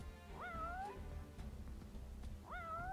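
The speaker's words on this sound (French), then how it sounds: "Ah non, d'accord, il fait que miauler." A cat in the video game Final Fantasy XV gives two short, rising meows about two seconds apart, quiet against a low game background.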